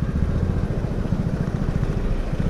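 A motorcycle idles in a traffic jam near Manali in Himachal, its engine giving a steady low, pulsing rumble up close, with no speech over it.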